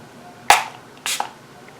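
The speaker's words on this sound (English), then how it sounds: "I just literally spray onto the soap" Two short, sharp hissing sprays from a setting spray pump bottle misted onto a bar of soap, about half a second apart, close up in a quiet room.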